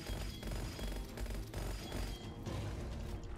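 Continuous gunfire and explosions in the first-person shooter game Gunfire Reborn during a boss fight, a dense, loud barrage of rapid shots and booms with no pauses, no talking over it.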